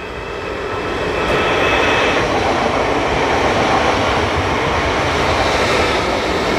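A train departs Göttingen station with a loud, continuous rolling rumble and roar that swells in the first second, then holds steady and close. Brief high metallic tones cut through the noise, and no one speaks.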